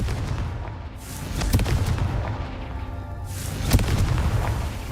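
A blasting spell goes off in a fantasy wizarding game, sounding as two loud booming explosions with sharp cracks, about three seconds apart, each followed by a rumbling tail.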